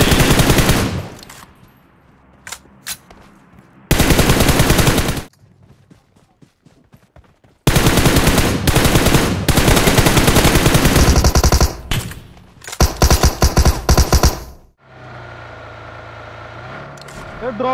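Automatic gunfire in the BGMI battle royale game played on an iPad Pro, with several loud, dense bursts of rapid shots separated by short quieter gaps and a final fading tail.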